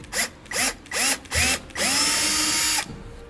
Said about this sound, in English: we'll drill out a hole with a 5/16 drill bit